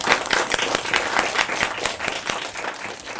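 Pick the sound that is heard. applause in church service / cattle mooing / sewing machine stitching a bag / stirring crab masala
applause in church service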